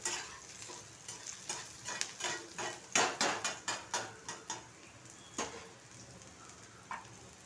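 Spices and garlic roasting in a hot pan, with a spoon scraping and tapping against the metal in a quick run of repeated strokes over a steady frying hiss, close up with no voices.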